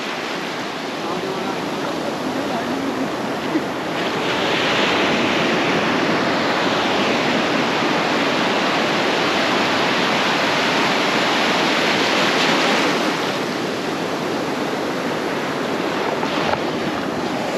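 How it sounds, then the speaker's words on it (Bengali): Ocean surf roaring steadily on Inani beach at Cox's Bazar, a loud continuous wash of breaking waves that swells louder in the middle and eases again, heard alone without talk. "সাগরের গর্জন"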